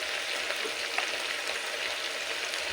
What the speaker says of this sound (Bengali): এবার সমস্ত মশলা আলুর সাথে ভালো করে কষিয়ে নিতে হবে